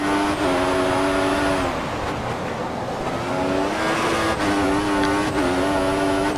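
An F1 car in the F1 2014 racing game roars at a steady high engine pitch, dropping and shifting tone as it brakes on track, loud and close with no talk.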